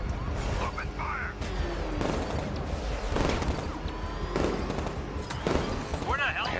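Gunfire in Batman: Arkham Knight, rapid cracking bursts and booms scattered across the clip amid engine noise and crashes, with voices speaking over the action.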